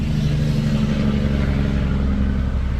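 A semi truck using its Jake brake on a nearby road, a loud, continuous low engine rumble and rattle holding steady throughout with no voices.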